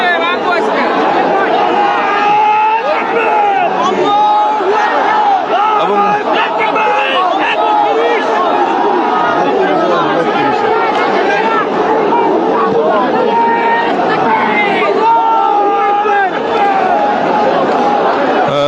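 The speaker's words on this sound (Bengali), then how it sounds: "পুরো শাহবাগ কিন্তু এলাকাটা কিন্তু ইতিমধ্যে স্লোগানে উত্তাল হয়ে উঠেছে" A large crowd of protesters at Shahbag, Dhaka, chants slogans continuously and loudly, voices massed together with shouting and babble throughout.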